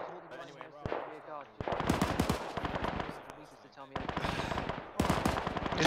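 Gunfire in a World War II-era war video game: loud rapid bursts of machine-gun fire in several stretches, with players talking over and between the shooting.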